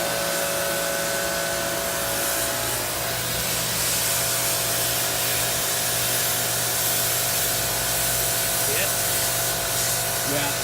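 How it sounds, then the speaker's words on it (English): A pressure washer sprays water behind a weld on a small passenger vessel during a nondestructive weld test, giving a loud steady hiss over constant machinery hum with no break. "That's using pressure washer from behind the weld."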